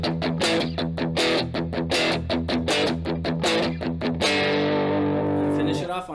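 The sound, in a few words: electric guitar power chords with distortion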